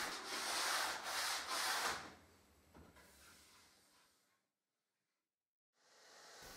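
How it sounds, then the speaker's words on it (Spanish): Sandpaper rubs the top corner and inside slot of a wooden fence board in quick, close, gritty strokes, then stops for a short silence before the sanding resumes. "Lijo un poco la esquina superior y lijo el interior de la ranura."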